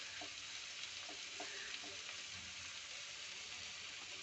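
Garlic paste sizzles steadily in a hot pan of oil for fried rice, a continuous bright frying hiss with a few soft stirring taps, heard close with no voices.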